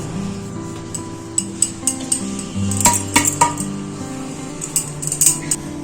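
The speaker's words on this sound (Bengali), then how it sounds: "এবার থালার মধ্যে ঢেলে দেব।" Ground fried flattened rice being tipped from a mixer jar onto a plate, heard as scattered metallic clinks and scraping taps, a cluster of sharper knocks in the middle, then lighter clinks near the end, close and fairly loud.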